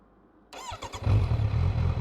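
A Kawasaki Z900 motorcycle with a Stage 2 ECU tune starts up close and revs with a few rising throttle blips, then settles into a loud, steady engine drone on the German Autobahn.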